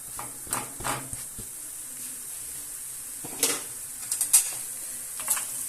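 Chopped green garlic sizzles softly in a pan for chickpea noodle soup with a steady hiss, broken by occasional light clinks and scrapes of a spoon.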